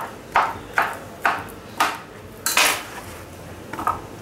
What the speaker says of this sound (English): Stop chopping up all the goddamn bananas.